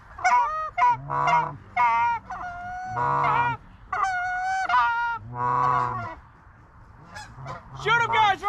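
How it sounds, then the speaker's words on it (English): A flock of geese honks repeatedly overhead during a goose hunt, loud, overlapping calls in quick bursts close to the listener, with no talking. "the first flock of geese doing exactly as we had hoped"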